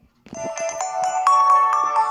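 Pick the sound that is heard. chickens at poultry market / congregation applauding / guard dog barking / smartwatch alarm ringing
smartwatch alarm ringing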